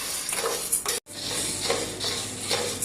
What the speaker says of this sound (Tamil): இதை நல்லா பொன்னிறமாக வறுத்துக்கலாம்.